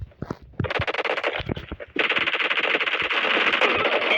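Automatic gunfire in a video game, starting as choppy short bursts and then turning into a steady, loud, continuous rattle of rapid fire.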